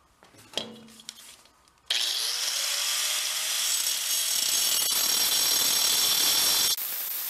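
After a few quiet knocks and clatters, a power saw fitted with a diamond-cut metal blade starts and cuts loudly and continuously for about five seconds, a harsh high whine with grinding underneath, during work on a VW dune buggy build.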